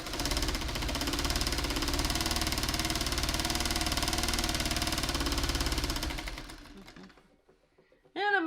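A sewing machine stitches fabric pieces for a bird of paradise pattern, running in a fast steady whir for about six seconds before slowing and stopping, followed by a brief sound at the end.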